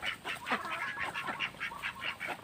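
Backyard egg-laying ducks on a Philippine farm, a flock giving rapid, overlapping nasal honking quacks in steady bursts, close and fairly loud.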